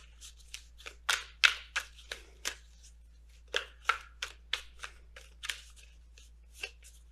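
Oracle cards are shuffled and handled during a tarot reading, a steady series of soft close flicks and riffles at an irregular rhythm, faint and alone without speech.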